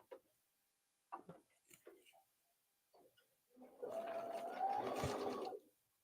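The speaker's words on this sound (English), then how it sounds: "So I am going to sew literally from the bottom all the way up." A sewing machine stitches fabric for a memory bear in one steady whirring run of about two seconds, preceded by a few soft handling clicks and quiet movement.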